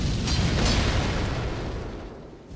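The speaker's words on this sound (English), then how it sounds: "I guess that was the massive explosion?" Massive explosion during the Radahn boss fight in Elden Ring, a loud broad rumbling boom that slowly decays over a couple of seconds, with no talk.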